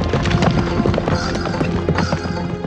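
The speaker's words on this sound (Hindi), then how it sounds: "घोड़े की लगामें खींचो जीवा जी" Horse hooves clip-clopping with a neigh on a road to Shirdi in a devotional television drama, a busy, loud and steady clatter of hoofbeats without any talk.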